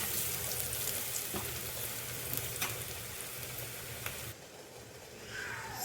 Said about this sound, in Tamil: ஆனியன் நல்லா ஃப்ரை ஆகிட்டு இருக்கும் போதே கொஞ்சமாக இதில் பெருங்காயம் சேர்த்துக்கலாம்.